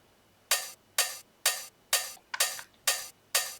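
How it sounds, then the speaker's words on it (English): Open hi-hats from a funky house beat, seven crisp sizzling hits in a steady even pulse, each ringing briefly before cutting off, with one quick extra tick partway through, played alone. "And here's some more open hi-hats."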